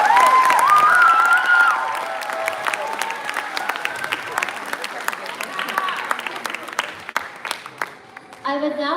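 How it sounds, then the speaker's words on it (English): Audience applauding and cheering after a Bharatanatyam arangetram, with dense clapping and shouts of many people that thin slightly midway, while voices and a speaker talk over the crowd. "Everybody, please give them all one more big round of applause"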